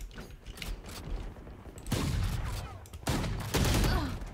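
Judge shotgun in Valorant firing a few heavy, booming blasts, each followed by mechanical clacks of cycling and reloading, loud and close amid faint game ambience.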